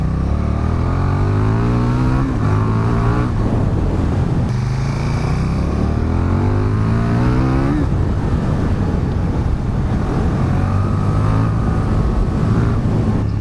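KTM 1290 Super Duke R, a 1300 cc naked motorcycle, being ridden hard. Its engine revs up and down through several gear changes, loud and close, with repeated rising pitch sweeps.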